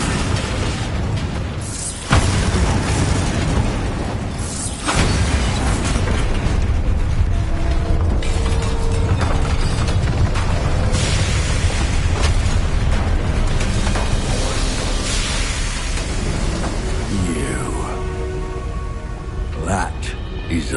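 Spell explosions in the Hogwarts Legacy video game, sharp booming blasts and bursts amid combat effects and music, with a character's voice speaking at times.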